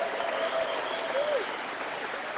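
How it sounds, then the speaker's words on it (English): Crowd at a Conservative election rally in Nanoose Bay clapping for local candidates, a continuous even burst of applause with a faint whistle or cheer riding over it. "Give them a round of applause for our local Conservative candidates for a change."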